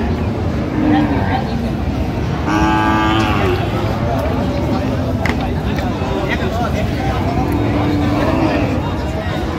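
A Sahiwal bull at a busy cattle market in Dinajpur, with a couple of moos and lowing calls amid constant crowd chatter and nearby voices talking.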